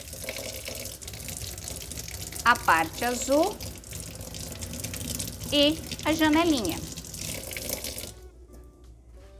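Tap water runs and splashes as a refractometer is rinsed under the faucet, with bursts of louder spattering between steady flow and someone speaking over it.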